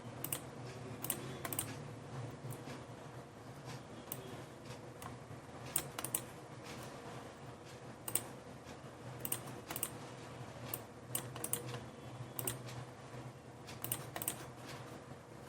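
Keys clatter on a computer keyboard while entering data in Excel, a steady run of quick, close taps with scattered louder clicks and brief pauses, alone over a faint room hum with no voices.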